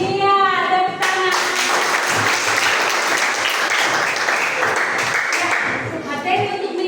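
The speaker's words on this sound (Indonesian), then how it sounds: "Iya, tepuk tangan." A classroom of pupils claps together for about five seconds, a dense and steady burst of applause that follows a brief voice and then tapers off with some talk near the end.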